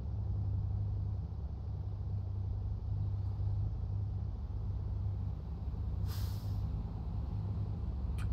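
A truck's air brakes release a single short hiss at about six seconds in American Truck Simulator, over a steady low engine and road rumble, with no talk.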